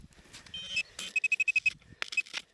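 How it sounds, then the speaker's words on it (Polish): A metal detecting pinpointer probes a hole in a field, giving short, high electronic beeps, one alone and then a fast even run of about seven, over soft rustling and handling noise. "Poszukamy pinpointerem."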